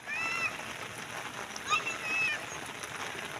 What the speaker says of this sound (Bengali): বৃষ্টির মধ্যে জাল পাততেছি কিন্তু আমরা ভিজা প্রচুর বৃষ্টি